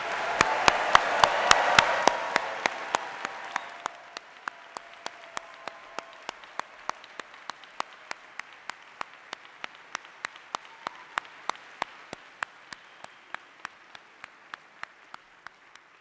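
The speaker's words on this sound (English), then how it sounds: "let's give a big Emory round of applause for our new PhDs." Audience applause for new PhD graduates at an Emory University School of Medicine commencement ceremony, a dense burst of clapping that swells loudly in the first few seconds, then thins to a sparse scatter of individual claps.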